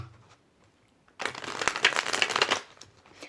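A deck of tarot cards is shuffled by hand in one brisk riffling burst of papery flutter lasting just over a second, close and clear in a quiet room.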